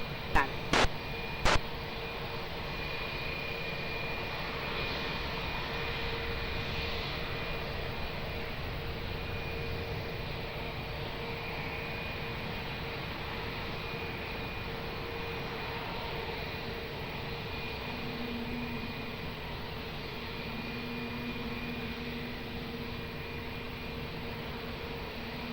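A steady, distant airliner roar fills the air at Lisbon Airport, a continuous broad engine rumble holding level throughout, with a couple of sharp clicks right at the start.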